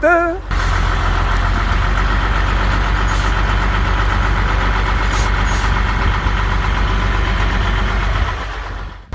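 A camper truck pulls away and drives on, its engine holding a loud, steady, close rumble with rattling over a deep low drone, a few brief higher squeaks near the start.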